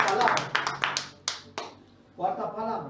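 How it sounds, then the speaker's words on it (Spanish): A church congregation gives a short burst of clapping, several sharp scattered claps coming close together and then fading, followed by talking. "Dale un fuerte aplauso al Señor, hermanos."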